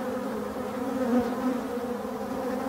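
Drone honeybees buzz around forest beehives in a steady, close, continuous hum with a slight waver, heard alone without any talking.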